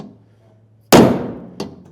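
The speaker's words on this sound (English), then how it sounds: "you may need to go ahead and grab a hammer and go ahead and tap that in" A hammer strikes a carriage bolt in the square hole of a 2014 Ford F-250 truck bed: one loud ringing metallic clang that decays slowly, then a second lighter tap.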